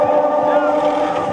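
A tractor engine drones steadily and loudly at a kupkari horseback game in a village, its rough revving tone running the whole time with wind buffeting and voices faint in the background.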